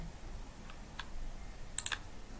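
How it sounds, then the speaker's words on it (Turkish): A few soft, separate key presses click on a computer keyboard in a quiet room, with a small cluster of taps near the end. "Alt delete'e basıyorum."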